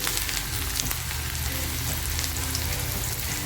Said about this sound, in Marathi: तेल छान तापलेलं आहे कांदा जो कापून घेतला होता तो कांदा टाकते